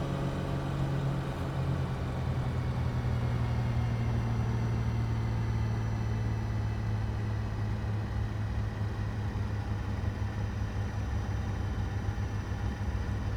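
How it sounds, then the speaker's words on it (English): A Piaggio P149D piston engine idles steadily just under 1200 RPM in a flight simulator, a continuous low hum with a strong droning tone that holds level from start to finish with no talking. "So idling just below 1200 RPM"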